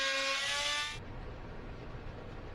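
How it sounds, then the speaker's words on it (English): An oscillating multi-tool trimming the end of a wooden hinge piece, a harsh high buzzing whine that cuts off abruptly after about a second, leaving low handling rustle. "so I cut a little off the end with my oscillating tool"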